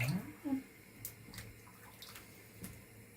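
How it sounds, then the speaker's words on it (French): Broth being ladled from a Kabyle couscous pot, soft liquid pours and splashes with a few light clinks, faint and close, under quiet background noise. "je vais récolter du bouillon"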